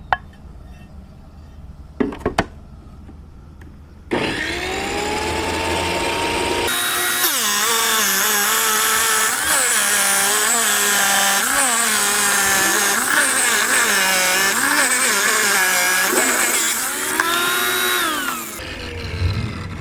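QEP table tile saw slicing through marble: the blade whirs up, then a loud, sustained grinding cut with wavering pitch runs for over ten seconds before the motor winds down.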